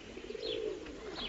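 Domestic pigeons coo softly in a low, rolling murmur, with faint higher chirps above and a steady background hush.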